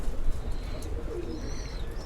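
Stock pigeons kept in a cage coo in the late afternoon, a low soft burbling murmur that stays steady under rustling noise, with thin high chirps drifting above.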